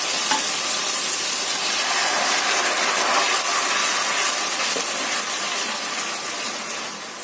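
A loud, steady hiss and sizzle fills the pan as water is poured into the hot pan, slowly easing off toward the end.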